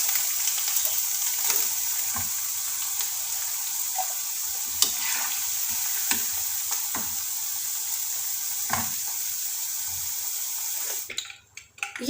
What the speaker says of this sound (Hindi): एलोवेरा के टुकड़ों को फ्राई करते हुए हमें 4 मिनट हो गया है।